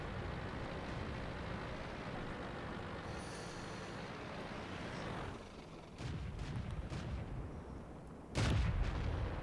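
Tank cannon fire in World of Tanks, heavy booming shots over a constant engine rumble, with one loud blast near the end standing out sharply.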